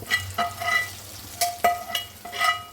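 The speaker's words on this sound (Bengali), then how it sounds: "এখন দেখেন আমি ভুড়ির মধ্যে এই বেরেস্তাগুলো দিয়ে দেবো" Fried onions are stirred into goat tripe frying in a pan, with a soft continuous sizzle broken by several scraping stirs of a spoon against the pan.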